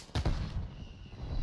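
Strafe-run gunfire in the Black Ops Cold War video game, a loud burst of two or three heavy reports followed by a rumbling, sustained roll of distant fire.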